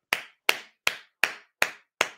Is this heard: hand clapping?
yes